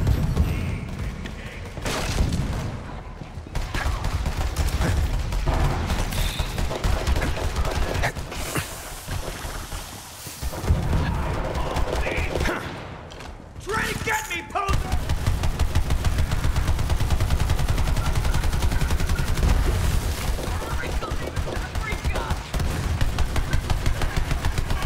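Rapid automatic gunfire in Borderlands 3, loud and continuous with brief lulls, layered with game effects and mechanical clatter throughout.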